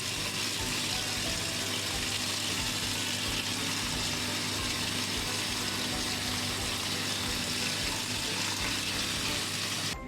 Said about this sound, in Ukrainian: заливаємо холодною водою повністю